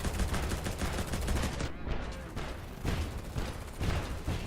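Rapid gunfire bursts from the multiplayer desert survival game Silica, dense overlapping shots continuing loudly throughout with a brief lull in the middle.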